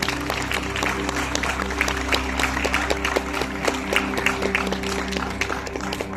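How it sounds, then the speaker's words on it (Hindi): An audience at a welcoming ceremony breaks into steady, sustained applause, a dense mass of clapping hands heard close and continuous under a faint hum. "मैं तालियों की गूंज से उनका स्वागत करना चाहूंगी।"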